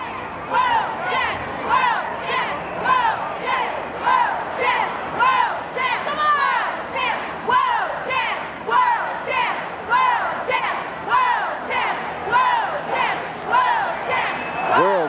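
Crowd at the Chicago Bulls' first championship celebration in Grant Park, chanting loudly in a steady rhythmic pattern of repeated phrases, many voices together, rising and falling throughout.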